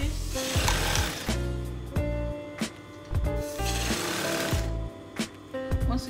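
A sewing machine stitches a sweetheart neckline in short bursts of rapid mechanical whirring, separated by brief pauses and fabric handling, close and clear with no talking.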